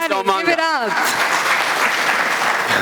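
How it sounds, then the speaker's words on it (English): Applause breaks out at a stock exchange listing ceremony for Mr. Omanga, a dense crowd clapping right after an announcer's voice and continuing steadily to the end. "Round of applause for Mr. Omanga. Give it up."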